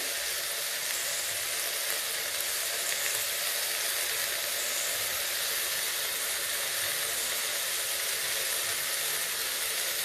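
Potatoes and eggplant fry in an oiled pan as tomatoes go in, giving a steady, loud broadband sizzle and hiss that runs unbroken throughout with no talking.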